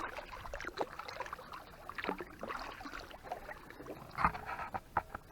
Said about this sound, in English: This dude's paddling right next to me.